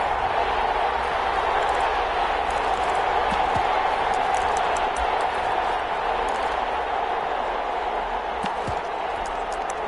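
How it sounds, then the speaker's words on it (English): Football stadium crowd building before a big third down in a Packers game, a broad sustained roar of cheering voices with scattered sharp claps and thumps, loud and constant across the stretch. "The crowd getting into it as we come up on a big 3rd down."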